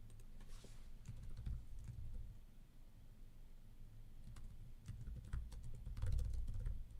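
Soft, irregular tapping of keys on a computer keyboard, quiet and close, with a low background hum.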